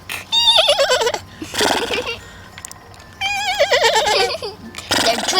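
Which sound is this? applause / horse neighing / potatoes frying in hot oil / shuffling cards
horse neighing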